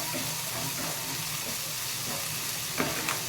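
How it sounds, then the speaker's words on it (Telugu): Chicken fries in a pan for tadei chicken with little oil, giving a steady loud sizzle with a few stirring scrapes near the end. "ఇంకా కొంచెం వేగేద్దామండి ఇంకా రెండు నిమిషాలు వేగితే సరిపోతుంది"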